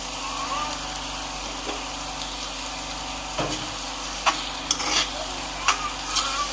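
Garden egg sauce bubbling in a pot, a soft steady simmer with a few sharp clicks and stirring knocks, close and continuous, no talk.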